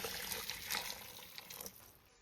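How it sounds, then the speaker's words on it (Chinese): Boiling water pours into a pot holding lamb ribs, a close, continuous splashing gush that tapers off toward the end, with no talking. "加入开水"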